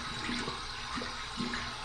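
Warm water running steadily from a bathroom tap during a shaving rinse, a continuous close hiss with a few gurgling swells, no voices.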